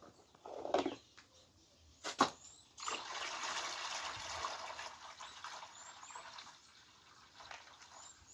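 Water is poured and sloshed over grain being rinsed a second time: two sharp splashes, then a longer stretch of pouring and swirling that slowly fades, close and fairly quiet, with no talking.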